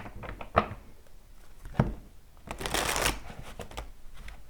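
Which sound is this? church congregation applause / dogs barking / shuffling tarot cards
shuffling tarot cards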